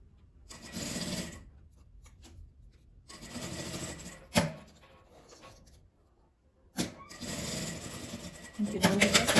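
A sewing machine stitches a zipper in place, running in several short close bursts with brief reverse backstitch passes and quiet pauses between, while a person speaks quietly at times.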